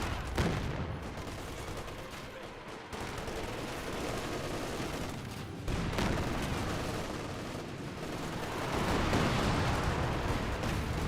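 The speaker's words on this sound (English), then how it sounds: "I hear another Panzerwerfer barrage." A Panzerwerfer rocket artillery barrage in Company of Heroes 2, a continuous rumbling roll of overlapping blasts and crackling impacts that keeps going for the whole stretch, swelling louder toward the end.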